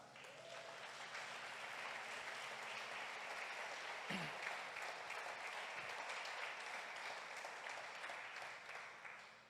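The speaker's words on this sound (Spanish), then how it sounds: "Dale un aplauso a Jesús." Sustained applause from a church congregation during a sermon, steady and fairly loud, with dense clapping throughout and fading slightly at the end.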